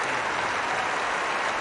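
Crowd applause welcoming Czech tennis player Jana Novotna before a British audience, a steady dense wash of clapping with no gaps, filling the whole moment.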